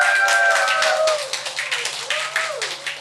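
A church congregation claps as the welcome and guest teams are invited up. Loud, dense clapping comes in uneven bursts, with a sung or spoken tone running underneath.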